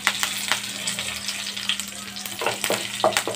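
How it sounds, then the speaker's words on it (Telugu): Tempering spices of chana dal, urad dal and mustard seeds fry in hot oil, giving a steady close sizzle with scattered sharp pops and crackles throughout, and a low hum running underneath. "पोपु दिनुसुलु वेसुकुंदाम पच्चिशनगपप्पु मिनपप्पु आवालु इगोंडि तालिंपु वेगुतुन्नायि कदा"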